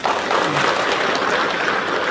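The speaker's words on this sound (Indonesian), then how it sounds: "Sekarang tepuk tangan." A seminar audience claps hands together, a dense, continuous burst of many hands at close to moderate distance, loud and even for the whole stretch.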